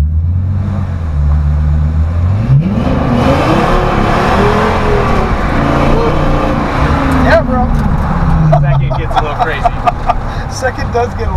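V10-swapped Ford F100 pickup truck engine revving hard as its tires spin, a loud close roar that climbs and holds for several seconds before easing, while people talk over it.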